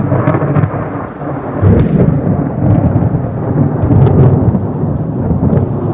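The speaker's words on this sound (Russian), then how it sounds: "молния ударила прямо рядом" Heavy thunder from a nearby lightning strike rumbles close by amid steady pouring rain, with deep rolling swells that build and fade again.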